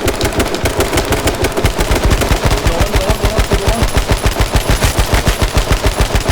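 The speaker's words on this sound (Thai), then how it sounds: "กูยิงโดนเพื่อนมัน" Rapid automatic gunfire in the video game H1Z1 plays as a loud, fast, even burst of shots that continues without a break, close and dominant throughout.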